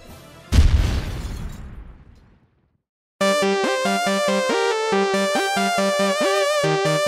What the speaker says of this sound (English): Disgaea gets 5 exploding penguins out of 5.